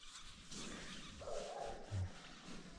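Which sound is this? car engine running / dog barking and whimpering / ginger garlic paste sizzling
dog barking and whimpering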